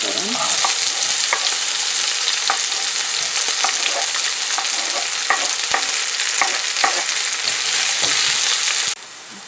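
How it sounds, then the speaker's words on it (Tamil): Chopped onions sautéing in a frying pan after mustard seeds, a loud close steady sizzle with sharp intermittent scrapes and taps from stirring, continuous until it drops off abruptly near the end. "நான் இதுக்குள்ள வெட்டி வச்சுருக்க வெங்காயத்தை போட்டு வதக்க போகிறேன்"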